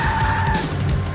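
Car tires squeal and skid during a getaway drive in the video game Max Payne 3, a short loud screech over engine rumble.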